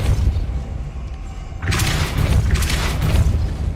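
A Depulso spell cast in the Hogwarts Legacy video game lands as a loud, deep booming burst with a rushing swell, following a low rumble and continuing with rolling blasts.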